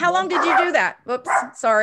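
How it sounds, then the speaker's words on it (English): A dog barks and yips in quick bursts close by, mixed with a person talking over it. "that's my dog."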